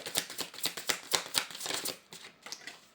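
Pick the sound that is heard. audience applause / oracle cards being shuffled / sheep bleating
oracle cards being shuffled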